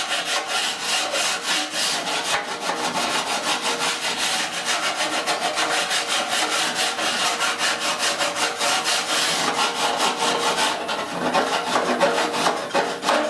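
A mill cut metal file rasps steadily along the edge of a steel patch panel for a rusted core support on a 1969 C10, close and loud, continuous rhythmic back-and-forth strokes without pause or speech.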